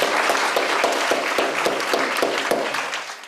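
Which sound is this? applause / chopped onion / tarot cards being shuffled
applause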